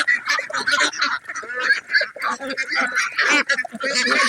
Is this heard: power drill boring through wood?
no